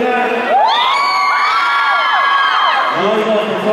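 A live concert crowd cheers and shouts together, with loud rising whoops overlapping for a few seconds before fading into murmurs.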